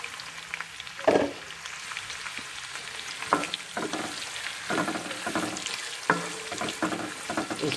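A large chopped onion fries in a pan for chicken ginger garlic kadhi, with a steady close sizzle and irregular scraping bursts as it is stirred.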